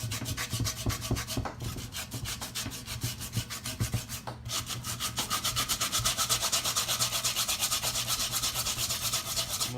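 Rusty cast iron skillet scrubbed hard with a potato or steel wool, a rapid rhythmic rasping that repeats close up and steady, growing denser toward the end.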